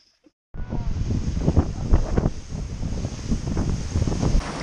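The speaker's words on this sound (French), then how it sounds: "avec le vent froid là, ça va pas du tout" Cold wind gusting over Mount Rinjani on Lombok, a loud steady roar buffeting the microphone with rising and falling surges from start to finish, no voices.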